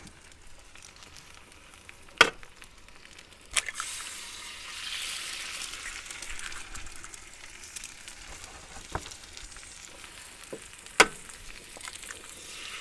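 Eggs and buns frying in a pan while traveling, a quiet steady sizzle broken by a few sharp clicks and taps of utensils, with no talking.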